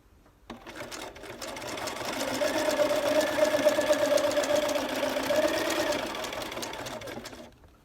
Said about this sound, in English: fairly close together to satin stitch the edge of the lace onto the old hem section